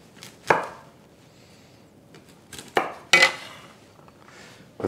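A knife chops through asparagus stems on a cutting board: a few sharp, separate thuds at uneven intervals, close and clear, with quiet pauses between the cuts.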